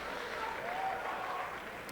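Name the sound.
audience clapping in a played comedy show clip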